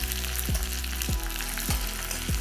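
Shallots, curry leaves, chilli and sliced tomato frying in a pan for a Kerala chicken mappas, a dense continuous sizzle with regular stirring scrapes about every half second, close and loud.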